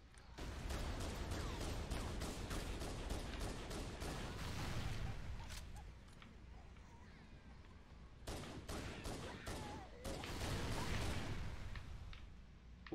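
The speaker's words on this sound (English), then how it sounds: "Lots of explosions" Repeated explosions and bursts of gunfire fill a Halo multiplayer match, loud and dense with a brief quieter lull before another heavy barrage.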